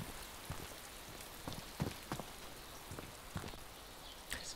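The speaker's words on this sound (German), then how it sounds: "Es regnet." Soft, steady rain patters on a surface, with scattered individual drops ticking close by at irregular intervals, in the video game DayZ.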